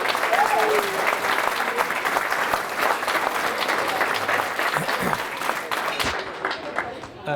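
A crowd at a St. Patrick's Day breakfast breaks into sustained, loud applause after an Irish dance performance, steady clapping throughout with a few faint voices mixed in.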